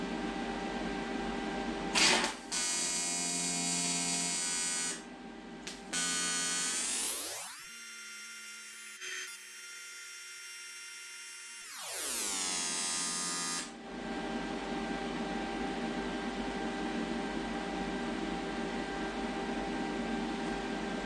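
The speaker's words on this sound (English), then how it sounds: "see if I can get started welding" A foot-pedal-controlled welder laying a weld holds a steady, close electric buzz, cuts out for a few seconds while a softer tone swells and fades, then resumes the loud hum.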